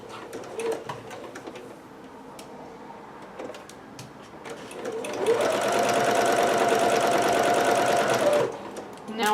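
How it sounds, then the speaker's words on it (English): Sewing machine stitching the rest of a seam on a Pikachu-style dress, running steadily for a few seconds and then backstitching at the end. Earlier there are short bursts and handling noises, with some voice in the background. "Now I'm just finishing up the rest of that seam. And then back stitching at the end."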